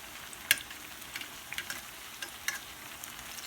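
Sliced bananas fry in oil in a skillet, giving a faint, steady sizzle with a few sharp pops and crackles, close by and without talk.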